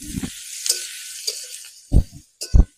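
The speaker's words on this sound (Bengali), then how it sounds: "এবার চলো সব দিয়ে পেঁয়াজটাকে আমি ভালো করে একদম কষিয়ে নেবো" Onion fries with coriander, cumin and Kashmiri chili powder, soft sizzling punctuated by a few sharp spatula scrapes and stirs near the end, with quiet gaps in between.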